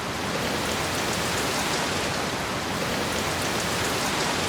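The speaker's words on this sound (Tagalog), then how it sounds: "Sa pagbuhos ng ulan" Dense, steady downpour of heavy rain, a constant loud hiss with no pauses or voices.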